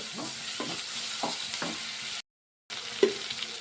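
Tempering spices for aloo fry crackle and sizzle in hot oil while a spoon stirs in rhythmic scraping strokes, close and moderate in level, broken by a brief moment of total silence, with no talk.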